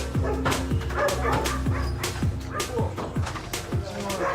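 Several dogs guarding a property in Belize bark and yip repeatedly at police trying to get in, a rapid overlapping chorus of sharp barks throughout, with voices mixed in underneath.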